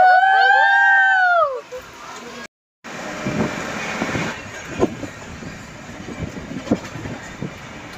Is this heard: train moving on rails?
yes